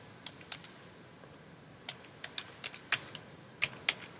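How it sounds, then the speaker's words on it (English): Typing on a computer keyboard, a dozen or so crisp close key taps in uneven bursts over a faint steady background hiss, no talking. "type in patient ID"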